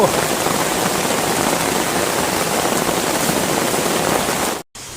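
Heavy rain pours onto a tent pitched under a big tree at the Khlong Lan waterfall campsite, a dense, loud, unbroken roar that drops out abruptly for a moment near the end.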